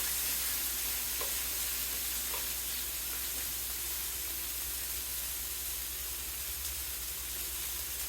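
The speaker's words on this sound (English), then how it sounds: "We're going to put our peppers in the pan. just saute those." Bell peppers sauté in a hot pan, giving a steady, even sizzle and hiss that stays constant and fairly soft throughout with no talking.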